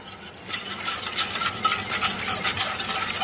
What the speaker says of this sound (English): Keep whisking it so it doesn't burn on the bottom to get it hot.